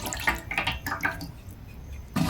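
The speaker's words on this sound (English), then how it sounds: "I'll rinse my ginger." Ginger is rinsed under running water, with close, uneven splashes and drips as it is turned in the stream, then a short quieter pause before the water picks up again.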